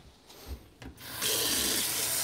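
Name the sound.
paintbrush being rinsed in water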